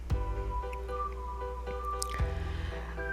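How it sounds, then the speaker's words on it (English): Styling cream is worked into wet hair with close, wet squishing and a few sharp dripping smacks, separated by quieter moments. "now I'm putting in my styling cream"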